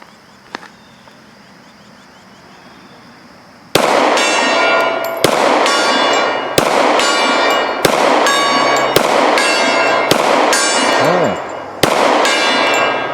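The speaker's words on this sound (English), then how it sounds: "Let's go ahead and shoot the gong." Pistol shots fired at a steel gong on an outdoor range ring out one after another, about eight loud cracks at a steady pace, each followed by a sustained metallic ring that overlaps the next shot.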